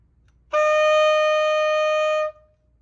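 A single high note on an alto saxophone, held steady for about two seconds with a bright, clean tone, played alone and close in a quiet room.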